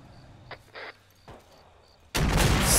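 Gunfire in the military video game Arma 3: a few short, sharp distant shots and bursts, then a sudden loud, sustained roar of heavy firing close by.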